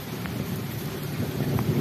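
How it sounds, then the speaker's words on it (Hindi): Steady rain pours onto waterlogged, flooded ground beside walls, a dense continuous patter with a few brighter drops standing out, no voices. "अभी भी बारिश जो है वो बरस रही है।"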